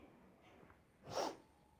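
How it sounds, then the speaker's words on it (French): One soft sneeze from a person with a cold, a brief muffled burst in the middle of a quiet stretch, faint and alone. "Ah, pardon, je viens d'éternuer alors."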